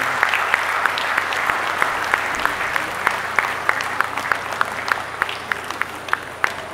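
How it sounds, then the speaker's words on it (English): Applause from a crowd of families in a gym during a college commencement, a steady wash of many hands clapping with sharper individual claps standing out, fairly near and continuous throughout. "Now let's give them a round of applause"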